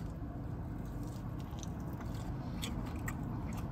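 Crunchy fried chicken wings bitten into up close, with crisp bites and chewing crackle over a loud, steady background rumble of a busy burger restaurant in Bradford.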